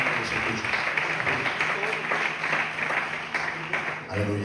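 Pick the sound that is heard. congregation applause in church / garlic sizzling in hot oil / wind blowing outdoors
congregation applause in church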